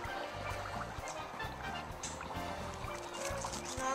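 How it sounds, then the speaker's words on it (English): Dry ice sublimating in water in a school sublimation science demonstration, giving a steady bubbling, gurgling churn with small drips and pops, continuous and close throughout. "And all the bubbles are filling up with the gas,"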